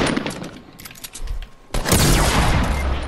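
A heavy shotgun in Fortnite firing, scattered shots early on, then a loud blast around the midpoint that leaves a dense, ringing wash, with no talk.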